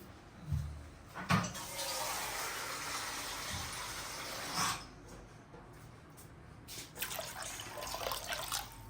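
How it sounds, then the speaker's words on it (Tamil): Water pours into a pot in a steady stream for a few seconds, with clinks of the vessel before and after, then another brief pour. "இன்னும் கொஞ்சம் தண்ணி ஊற்றணும்."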